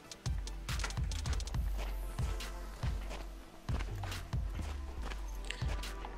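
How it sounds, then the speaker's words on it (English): Enemy footsteps in the tactical shooter Ground Branch, set in a depot: a steady run of heavy, thudding steps with low booming impacts, quite loud and close and continuing for several seconds. "Yeah, I can definitely hear footsteps."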